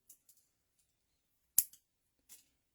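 A blade snips parts off the sprue of a model boxcar kit in a few quiet, sharp clicks, one louder cut near the middle standing out against near silence.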